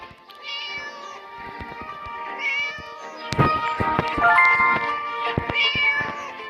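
A video game cat meows repeatedly, high and drawn out, over sharp clicking and tapping sounds, close and fairly loud.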